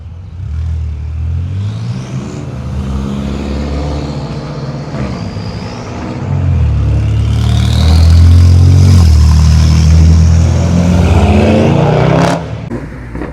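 A drag racing car engine revs loud and close, first with a rough idle, then climbing into a sustained high rev before cutting off abruptly near the end.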